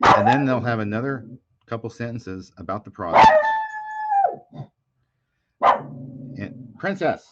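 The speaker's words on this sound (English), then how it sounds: "sorry about the dog." A dog barks and howls close by, short loud outbursts breaking in between someone talking, with a drawn-out howl in the middle and brief silences.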